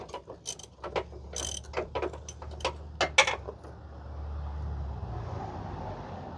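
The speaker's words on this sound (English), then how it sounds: "so you can see there's actually wrenching on" A hand wrench works on bumper spacer kit nuts under a truck, giving a series of short metallic clicks and ratcheting taps with brief pauses, fairly close, followed by a low steady hum.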